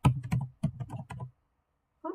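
Keys clatter on a computer keyboard in a series of quick, close taps lasting about a second, then a pause before one more short burst of typing.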